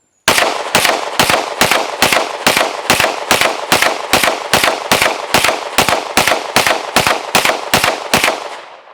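A Sig Sauer P365-FUSE pistol fires a steady, rapid string of about twenty loud, sharp shots at close range, evenly spaced with no talking between them.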